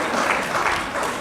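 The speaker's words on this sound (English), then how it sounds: "I have a feeling that's the non-attorneys in the room applauding" Audience applauding in a lecture hall during a talk on evolution and design, a dense, steady burst of clapping filling the room at close range, no voices.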